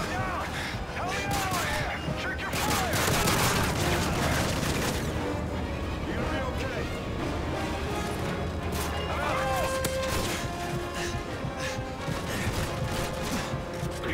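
Gunfire during a Modern Warfare 3 Special Ops mission: rapid, loud bursts of shots and crashing impacts pile up nonstop in a chaotic firefight, with players talking excitedly over the shooting.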